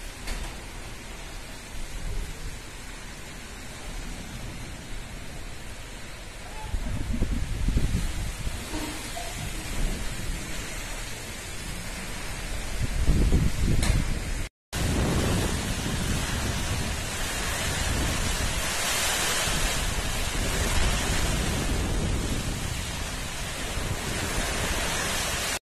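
Steady heavy rain roars with rumbling thunder and gusty wind swelling in the low end, a continuous storm wash with no voices, outdoors in a garden.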